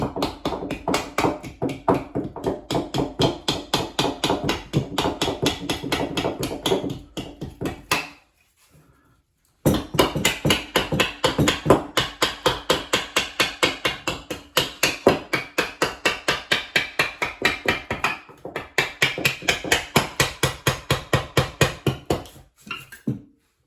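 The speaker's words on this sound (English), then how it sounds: "Try doing this with a hammer." Steady rapid hammer taps strike a hard surface in long repeated runs, close and loud, pausing briefly midway before continuing, as a sink is knocked free from a granite countertop.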